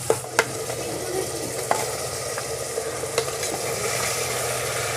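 Onion and tomato frying in a pan over a village wood-fire stove, a steady close sizzle with occasional soft scrapes and taps of stirring throughout, no voices.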